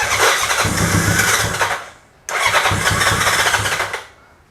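A Honda CB750 motorcycle cranks loudly in two long attempts without catching, each a churning, rhythmic starter-and-engine chug lasting about two seconds, heard close and alone with a brief pause between.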